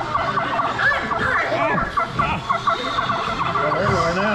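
Turkey gobbles sound among targets on a Thanksgiving-themed shooting ride at a Santa Claus, Indiana theme park, with repeated warbling calls over busy ride noise and background chatter.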